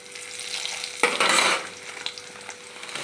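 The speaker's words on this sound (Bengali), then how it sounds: "সেগুলো আমি একটু ভেজে নেবো ভালো করে" Cashews, raisins and vermicelli fry in ghee in a pan, giving a soft steady sizzle with a louder burst of crackling when stirred, then settling back to a quiet fry.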